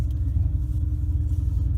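A 2018 Cadillac ATS 2.0 AWD turbo engine gives a low, steady rumble under way, with muffled road noise and a continuous drone.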